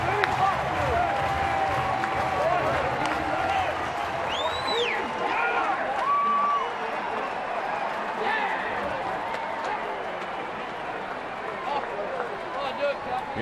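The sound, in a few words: baseball crowd cheering Cody Ross home run for Giants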